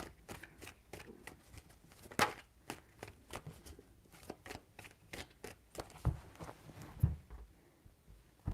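Tarot cards being shuffled by hand, a quick run of soft riffling flicks and taps close up, faint overall with a few sharper snaps.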